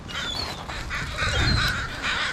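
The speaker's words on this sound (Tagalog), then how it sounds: "Diyan na yung mga ibon." A flock of birds calls and squawks continuously near a trap baited with chicken, dense overlapping cries outdoors at close to moderate distance, with no talking.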